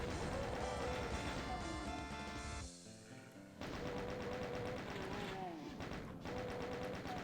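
Chaingunner enemies firing in the Doom video game, a dense, continuous stream of rapid gunfire that drops briefly in the middle before resuming, set against loud game music and effects.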